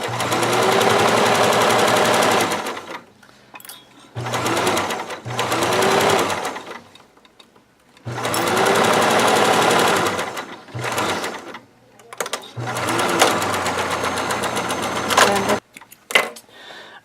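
Sewing machine stitching a quarter-inch seam for a French seam, loud close mechanical whirring in several long runs separated by brief pauses and clicks, with no talking.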